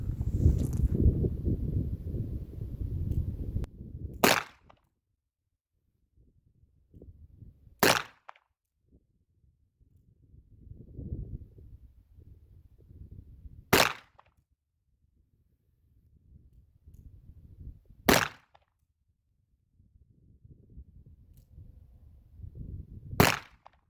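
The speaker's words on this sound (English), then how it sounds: "now we're going to go ahead and do some just double action shooting" A S&W 686 Plus .357 Magnum revolver fires double action, five loud, sharp shots spaced several seconds apart, with quiet shuffling and handling noise between them.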